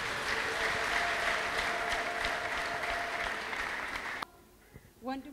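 A church congregation claps in a steady, full burst that ends abruptly after about four seconds, leaving a quiet room where a voice briefly speaks.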